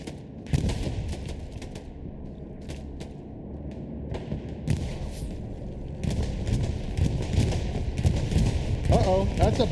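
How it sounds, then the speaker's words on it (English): Bombing run in the Hell Let Loose game: heavy explosions and booming blasts rumble in bursts, growing louder and denser toward the end, with someone talking over them throughout. "Uh-oh, that's a bombing run coming down."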